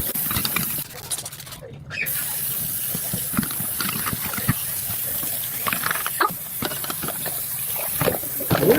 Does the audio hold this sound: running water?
yes